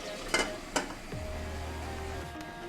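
Porridge yam stirred in a cooking pot: two quick clinks of a spoon against the pot, then a soft, continuous scraping and bubbling simmer, close up and without speech.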